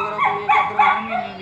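A husky in Ludhiana gives a few short, whiny barks and yips close by, while people talk over it.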